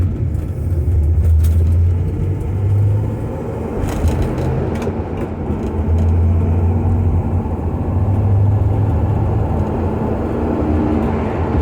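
Small Studebaker car towing a teardrop trailer on the road, a steady loud interior engine drone and road rumble with low humming swells that rise and fall, no voices.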